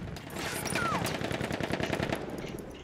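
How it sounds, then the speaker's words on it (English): Pistol and other gunfire in the first-person shooter Battlefield 1, a dense, continuous crackle of rapid shots throughout a chaotic battle, loud and steady with no clear gaps. "I feel stupid trying to use this pistol."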